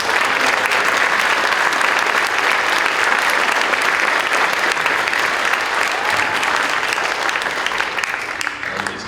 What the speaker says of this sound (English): we just need to give another round of applause to all the teachers out here in the Far West